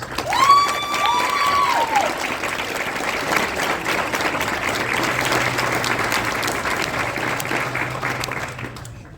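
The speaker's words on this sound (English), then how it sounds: "Please join us in welcoming these gentlemen with a round of applause." A crowd on a Marine parade deck at a battalion change-of-command ceremony applauds veterans with sustained, steady clapping over the full stretch. A few whistles cut through near the start, and the clapping tapers slightly toward the end.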